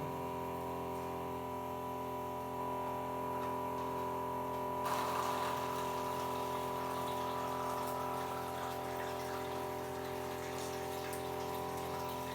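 A Kangen water ionizer machine hums steadily with its motor running, then water begins dispensing about halfway through, adding a constant splashing flow over the tonal machine drone; no speech.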